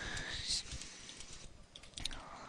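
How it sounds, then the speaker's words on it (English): Faint typing on a computer keyboard, scattered soft key clicks under a hissy room background, with no one speaking. "I try to get this typing done"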